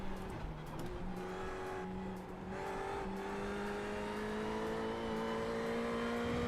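Race car engine in the iRacing sim game, a steady loud droning whine with rising pitch as the car accelerates through a gear change, continuous for several seconds with no talking.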